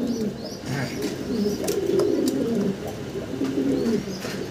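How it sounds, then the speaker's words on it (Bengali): Fancy pigeons coo steadily at close range, Damascene and Indian Kachchi types among them, their low throaty calls overlapping in a continuous murmur with a faint bird chirp above. "এখানে সিঙ্গেল দুই পিস কবুতর আছে, দামাসিন।"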